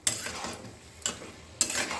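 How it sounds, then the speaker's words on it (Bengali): Chickpeas and banana flower being stirred in a pan: three scraping, rustling strokes spaced roughly half a second apart, close by and moderately soft, with a faint sizzle between them. "ভালো করে নেড়ে দেবো।"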